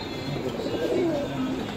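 Pigeons coo softly at a busy Mumbai pigeon market, their low, murmuring calls half buried in dense, constant crowd noise.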